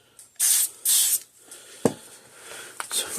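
Contact cleaner sprays onto a circuit board in two sharp hissing bursts, followed by a few clicks and quieter bursts of spray.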